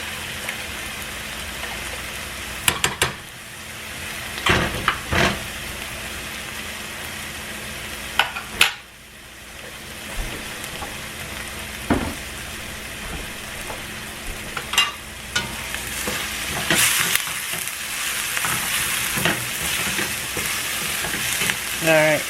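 Food sautéing in a pan on a gas stove, an even close sizzle like light rain that runs throughout, with occasional clatter and stirring bumps and no talking.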